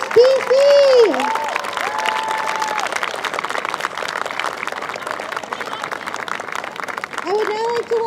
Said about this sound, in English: Big round of applause for our silver medalist, BC!